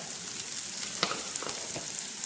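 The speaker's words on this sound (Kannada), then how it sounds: "ಮಸಾಲೆ ಎಲ್ಲ ಚೆನ್ನಾಗಿ ಇದರಲ್ಲಿ ಹುರಿಯೋಣ." Turmeric, coriander powder and chilli powder fry in hot oil in a pan for a paneer palak gravy, giving a steady soft sizzle with a few faint scrapes and clicks of stirring, no voices.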